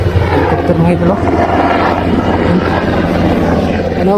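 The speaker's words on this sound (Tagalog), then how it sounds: "Helicopter mga idol, oh." A helicopter flies overhead, a steady engine rumble with a beating, chopping quality droning continuously, loud and close, while someone talks over it.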